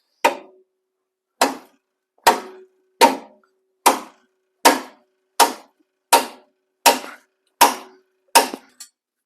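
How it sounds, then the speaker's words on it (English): A sledgehammer strikes a bent front-end bracket on a damaged 2015 Chevrolet Silverado 2500HD, eleven loud, close metallic whacks at a steady pace of roughly one per second, each ringing briefly before the next. "give her a few whacks with the sledgehammer"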